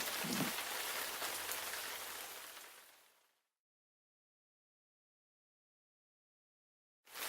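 Steady rain hisses loudly and evenly, then fades away into silence and returns suddenly at the end.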